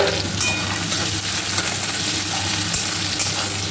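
Chopped onions and tomatoes sizzle and hiss in a hot pan while chicken kosha is being cooked, a steady close frying noise with faint stirring scrapes and no talking.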